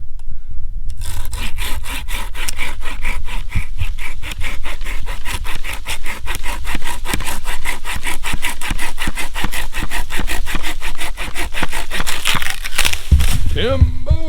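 A 5-in-1 bushcraft hatchet saw cuts through oak brush outdoors with a steady, rapid back-and-forth rasp, close and loud, continuing for several seconds before stopping as the branch gives way.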